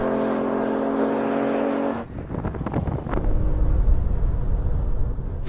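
A Porsche and an Alfa Romeo Stelvio in a drag race: a steady engine drone cuts off, then a loud, rough rumble of acceleration rises and holds close by.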